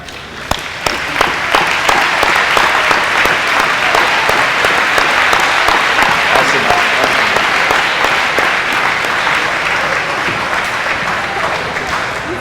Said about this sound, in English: could just give our parents a round of applause